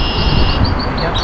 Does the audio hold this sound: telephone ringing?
no